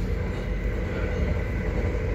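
Steady low rumble and rattle of a train running, heard from inside a carriage, continuous and fairly loud with no voices.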